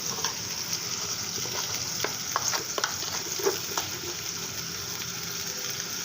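Garlic with turmeric, chili, cumin and salt frying in a pan, a steady sizzle broken by scraping stirring sounds, close and continuous with no talking.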